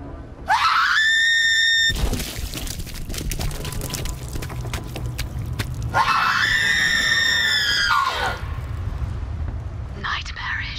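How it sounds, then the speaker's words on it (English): Loud, drawn-out screams from a character in the video game Borderlands 3, two long bursts several seconds apart with rough noisy sound between them. "I've heard a lot of screaming in my day, but that was lovely"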